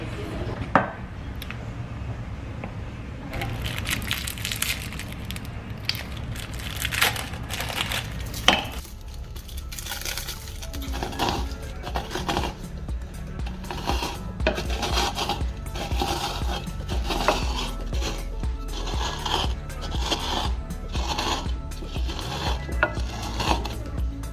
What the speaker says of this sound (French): vous les mélangez comme des blancs en neige